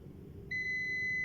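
A multimeter set to continuity mode gives a steady, high-pitched electronic beep as its probes touch, starting abruptly after a brief low background hum and holding evenly to the end.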